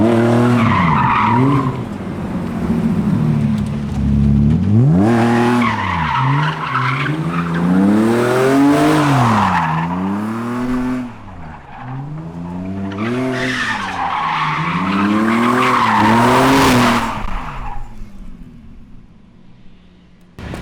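A 1990 BMW E30 runs figure eights, its tires squealing loudly in long rising and falling skids over a revving engine, with a few short pauses between passes.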